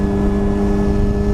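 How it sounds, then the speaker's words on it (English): A motorcycle engine revs steadily while the rear tire spins in place, giving a loud, continuous whirring drone with a sustained engine tone and no break. "Oh, spun the tire."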